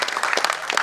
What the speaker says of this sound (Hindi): लोग तालियां बजाते रहेंगे